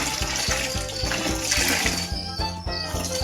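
A wet dish towel is wrung out over a laundry bucket, with water splashing and trickling steadily and loudly into the bucket at close range.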